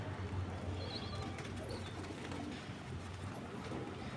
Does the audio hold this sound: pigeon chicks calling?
yes